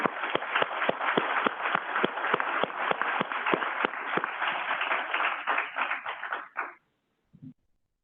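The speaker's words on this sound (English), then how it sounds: "Please join me in giving them a round of applause." Audience at a conference panel on the opioid and overdose crisis breaks into steady applause with sharp individual claps standing out, sustained for several seconds before fading out, followed by a brief soft knock.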